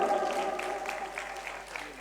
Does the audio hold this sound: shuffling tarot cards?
no